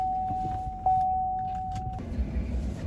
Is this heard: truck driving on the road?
yes